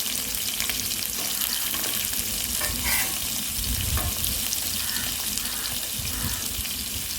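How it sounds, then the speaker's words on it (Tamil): Sliced big onions sautéing in a pan with fennel and cinnamon for a poori onion masala, a steady soft sizzle with stirring scrapes running throughout, no talking. "வெங்காயத்தை நல்லா வதக்கி விடுங்க."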